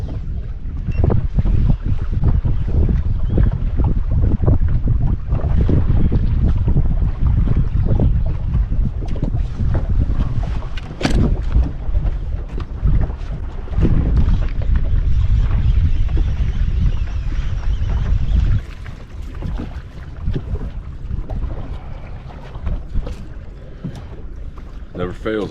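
Wind gusts buffet the microphone on a fishing boat out on the water on an overcast morning, a loud continuous rumble with brief spikes that eases near the end.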